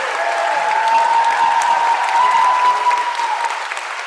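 Audience at a planetary health gathering in Kuala Lumpur claps loudly for two women, a thick continuous applause with a sustained tone running beneath it, easing slightly near the end.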